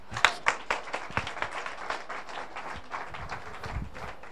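A church congregation applauds during a French-language worship service, a ragged run of hand claps that starts with a few sharp, close slaps and settles into steady, moderately loud clapping with no voices over it.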